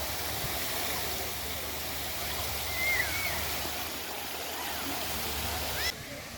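Island fountains on Centre Island in Toronto pour and overflow into small pools with a steady, broad rushing wash, fairly close and even, while a faint voice sounds briefly in the background.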